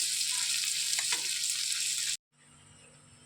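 Prawns frying lightly in hot oil, a dense close sizzle that cuts off abruptly, then a much quieter low hiss afterward, no voices.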